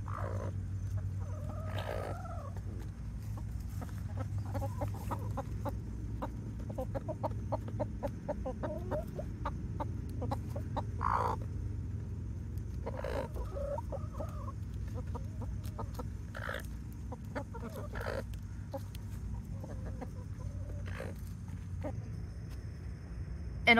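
Speckled Sussex hens clucking softly and intermittently, a few short calls scattered over a steady low hum, fairly close with no voices.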